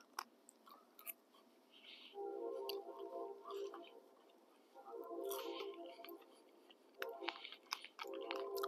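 Someone chews food beside a campfire during cold-weather solo truck camping, with soft, close, wet munching and crunching in several bursts separated by short pauses, set against quiet surroundings.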